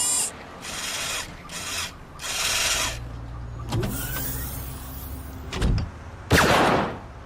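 A door panel is sliced open in a sci-fi video game: a series of harsh scraping, rasping bursts separated by short gaps, ending in a louder, swelling hiss.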